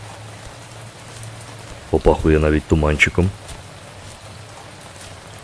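Steady rain falls in a dark forest in the horror farming game We Harvest Shadows, a constant soft hiss heard throughout while someone talks briefly in the middle.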